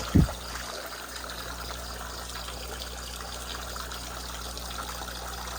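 Water trickles and flows steadily in a crayfish pond, a constant close wash of running water with a brief bump at the start and no talking.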